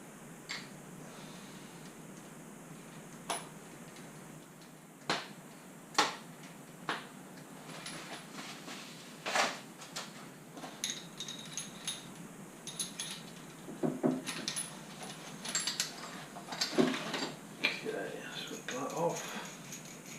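Flexible plumbing hose connectors with O-ring seals being screwed in hand tight by a plumber, giving scattered light clicks and ticks of metal fittings against a low background hiss, with a voice speaking intermittently.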